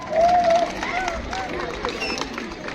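An audience at a school farewell party claps for a group that has just performed, steady applause mixed with crowd chatter and a few voices, moderately loud throughout.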